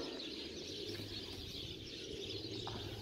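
A flock of about 25 to 30 wide-tailed pigeons at a pigeon breeding nursery gives soft cooing and light chirps. The calls are moderately faint and sit over a low background rumble.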